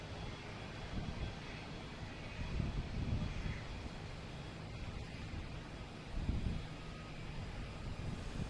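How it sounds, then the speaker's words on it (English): An Alaska Airlines Boeing 737 takes off from Boston Logan, a steady distant jet roar that swells in a couple of low rumbling surges, heard alone with no voices. "Here's the Alaskan Airlines taking off at 737"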